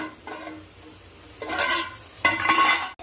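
Cauliflower curry with chili powder is stirred in a pot, a faint quiet start followed by two louder bursts of scraping and sizzling, close by with no talk.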